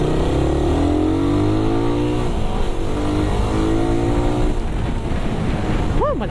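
A Suzuki Raider 150 motorcycle engine drones loudly on a test ride, climbing and falling in pitch as it revs through the gears, with strong wind rush throughout.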